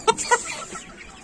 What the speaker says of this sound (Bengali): আচ্ছা ব্রাহ্মা মুরগি এটা আমেরিকান ব্রাহ্মা বলে আমেরিকান ব্রাহ্মা মুরগি